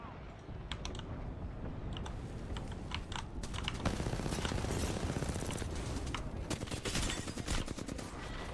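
Video game gunfire crackles in dense rapid bursts throughout, mixed with fast keyboard typing and clicking close by.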